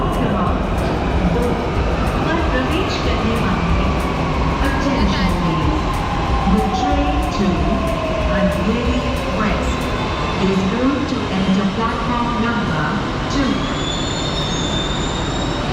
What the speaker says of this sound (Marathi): चला, आता मेट्रो आलेली आहे आता.